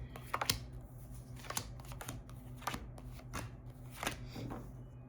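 A tarot deck is shuffled up close, with soft riffling bursts and flicks of cards coming in irregular rounds against a quiet, low background hum.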